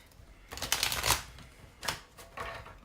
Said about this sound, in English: I'm just doing my shuffles on here.